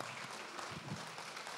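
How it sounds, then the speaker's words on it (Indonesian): Audience applause for a speaker called to the stage at a tourism conference, a steady wash of clapping filling the hall at a fairly faint, even level from start to finish. "mari kita berikan tepuk tangan yang paling meriah bagi George Hendrata"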